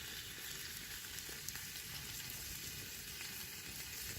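Steady, quiet sizzle of fish fillets frying in a pan outdoors, a continuous crackling hiss with no talking.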